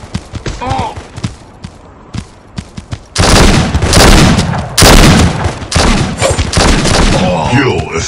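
Rapid gunfire bursts and booming shots from the mobile shooter game Guns of Boom during a multiplayer match: a sparse patter at first, then dense, loud, sustained volleys with short breaks, with an occasional voice cutting in.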